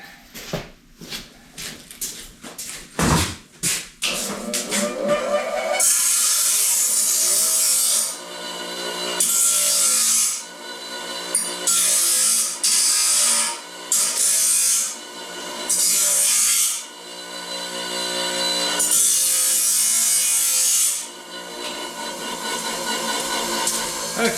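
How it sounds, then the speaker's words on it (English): Bench grinder cleaning up a freshly cut, still-hot metal piece in a sawmill workshop, loud harsh grinding in repeated bursts of a few seconds each after some clanks and handling noises. "I'm gonna go over here to the grinder and clean it up just a little bit."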